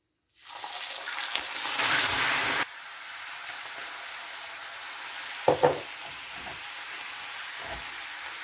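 Water poured into hot melted sugar in a pan sets off a loud, hissing sizzle for about two seconds, which abruptly drops to a quieter bubbling simmer with a couple of brief clinks and stirring sounds.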